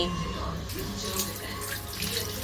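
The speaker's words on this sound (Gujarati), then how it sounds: "અહીં માટલુંને સારી રીતે ધોઈ લેવાનું છે" A clay water pot being rinsed and washed with water: steady running, splashing water close by, continuous for the whole stretch.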